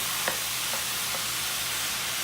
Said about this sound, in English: just stir it up as the meat is browning